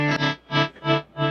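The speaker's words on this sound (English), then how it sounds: "Now it becomes almost like a tremolo." A guitar runs through a delay effect with sine-wave modulation, giving a tremolo-like pulse of four evenly spaced, swelling chords that rise and fade in steady rhythm.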